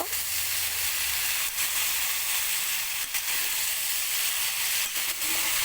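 Boiled papaya and other vegetables sizzle and hiss loudly in a frying pan while being stirred, a continuous close frying sound with occasional soft scrapes of the spoon.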